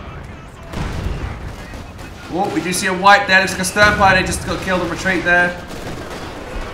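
Katyusha rocket artillery fires in the Company of Heroes 2 video game, a noisy rumbling salvo mixed with battle sounds, heard mostly beneath a caster talking loudly.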